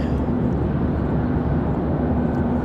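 Boeing Dreamliner airliner engines at Raleigh-Durham airport, a loud, steady low rumble with a sustained hum, unbroken over a few seconds and with no voices.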